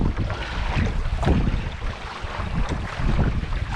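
A canoe pushes through choppy waves on a windy lake during a solo wilderness trip in Algonquin Park, with steady, loud rushing wind and water noise throughout and no speech.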